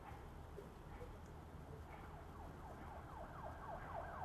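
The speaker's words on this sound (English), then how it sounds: "Gosh, I hear those sirens. They're so often now." Distant emergency sirens wail steadily in the background, a faint rising and falling tone persisting throughout against a constant low rumble of ambient noise.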